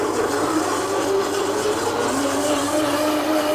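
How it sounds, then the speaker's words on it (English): A steady, dense motor whir with a faint rising pitch, a blender running continuously on vegan banana bread batter without pause and with no voices. "we're going to put it all in the blender and blend it."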